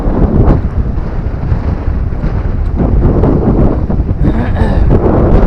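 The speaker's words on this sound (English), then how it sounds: "It's very windy. Wind's picked up a little." Strong seashore wind at Saltom Bay in the Lake District buffets the microphone with loud, continuous low roaring rumble and gusty thumps, steady throughout with no voices.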